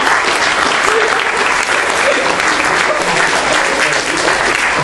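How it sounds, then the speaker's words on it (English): Church congregation applauding at an Easter Sunday service, steady dense clapping from many hands filling the room throughout, loud and continuous. "I'll give him a clap, that's fantastic."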